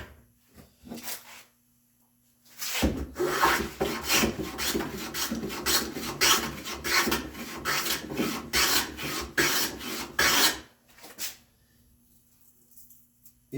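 A wooden back panel of a spice rack gets scrubbed down by hand, a few brief rubs first, then a long run of rhythmic, rasping strokes up close that stops abruptly before a couple of final scrapes.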